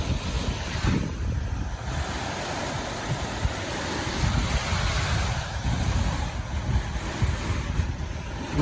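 Waves wash onto the shore with wind blowing across the microphone, a continuous rushing surf that swells and eases gently without pause.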